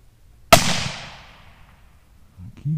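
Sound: 17 HMR rifle shot during squirrel hunt

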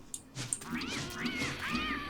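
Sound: cat meowing in Don't Starve Together video game

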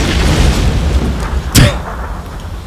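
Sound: grenade explosion in PUBG video game

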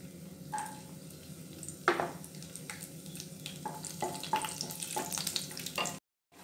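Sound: cashews frying in ghee with red chilli and bay leaf

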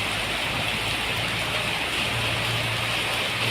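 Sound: rain falling

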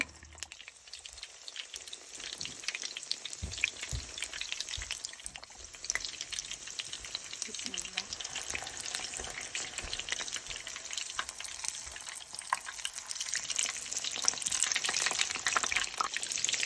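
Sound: kebabs frying in oil

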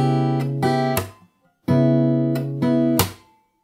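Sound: fingerstyle guitar playing slowly

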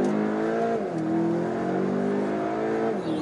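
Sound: Volkswagen Arteon accelerating hard at full throttle

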